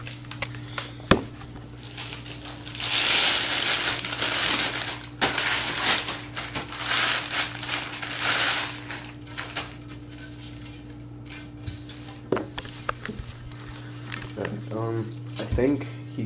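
Plastic wrap crackles and tears as it comes off a new Bauer Vapor hockey stick with a Backstrom 87 flex and extra grip. Loud, dense crinkling lasts several seconds, followed by scattered softer handling noises.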